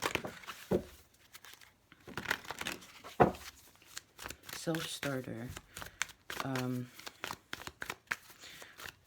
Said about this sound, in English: I'm going to shuffle these real quick.